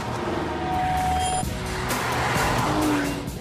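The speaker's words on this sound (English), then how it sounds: "head for the hills. Oh, loads of traction control kicking in as that mass of power and torque is unleashed" An Aston Martin DBS automatic accelerating uphill as traction control intervenes, engine rising loudly with tyre chirps and squeal, close and continuous.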